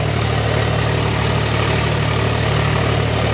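Steady, loud diesel drone of an Eicher 485 tractor working a harrow in a field, an even throbbing rumble holding unchanged throughout.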